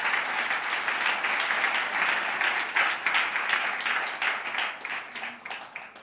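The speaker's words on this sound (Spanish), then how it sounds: "dale un aplauso al Señor" Congregation applause during a church service, a dense, steady wash of many hands clapping that stays loud throughout and thins slightly toward the end, with no talk over it.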